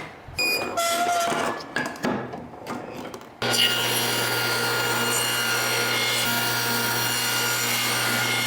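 A table saw rips wood held against the fence, with a few short scraping and rubbing sounds first, then a loud, steady whirring cut that runs close and unbroken.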